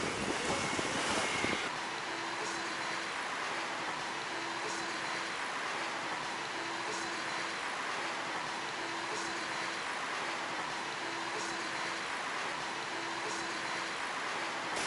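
Wind and surf roll continuously at a beach in Kalamata, Greece, with a heavy blast of microphone wind at the start, then a steady rushing wash of waves and gusts at moderate level.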